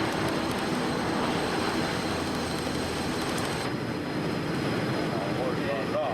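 A large airliner in a high-speed dive at Mach 0.96 during flutter certification testing, heard as a steady, loud broadband roar of rushing air and engine noise that lasts throughout.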